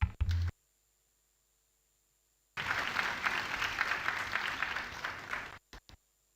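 Audience applause at a legal anniversary event marking the promulgation of the Code of Criminal Procedure: a steady burst of clapping lasting about three seconds after a short pause, then a few brief stray sounds.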